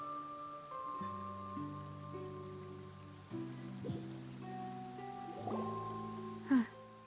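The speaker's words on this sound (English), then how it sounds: "It's been raining non-stop for a few days now." Steady rain falls in Genshin Impact's Fontaine region, a soft continuous patter spread evenly through the scene, largely drowned out by layered sustained game music, with a brief brighter splash near the end.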